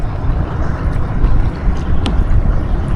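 Strong wind buffets the microphone on open sea during kayak fishing off Cebu in stormy weather, a steady low roar with gusty swells and faint water wash, no speech.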